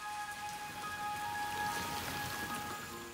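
Steady rain falls on the lowlands of the Mekong delta during the rainy season, a dense, even hiss of drops with no voices, moderately quiet and continuous.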